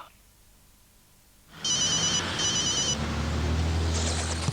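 A mobile phone in an Optus advertisement rings in two quick electronic trilling bursts, loud and close, after a quiet opening, with a low background bed continuing beneath.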